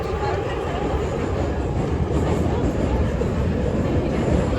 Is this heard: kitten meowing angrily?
no